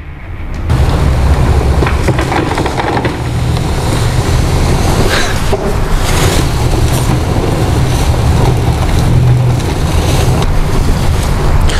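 Kranzle Colly 800 warehouse sweeper rolling over a big pile of dirt, a steady loud rumbling and gritty rattle of debris being swept up, continuous from start to finish with no voices.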